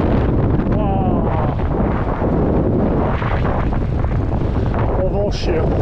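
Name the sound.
strong wind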